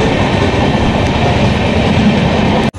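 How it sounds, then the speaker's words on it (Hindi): The Udhampur Weekly Express departs Karnal station at night, filling the space with a loud, continuous rumble and rolling clatter of railcars heard from close on board, with no talk. "अभी मैंने आपको दिखाया करनाल से अपनी ट्रेन का डिपार्चर"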